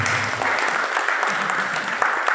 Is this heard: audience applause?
yes